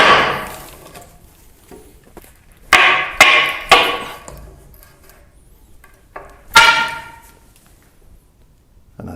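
Sharp hammer blows striking nail anchors in a concrete floor to free a wall stud: a few isolated hits early, then a tight cluster of three loud metallic strikes, one more a little later, close and ringing.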